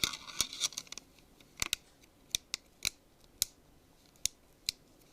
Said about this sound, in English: Then put your rear cover back on.